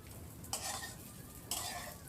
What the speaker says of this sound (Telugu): ఇవన్నీ మళ్ళీ కలుపుకోవాలి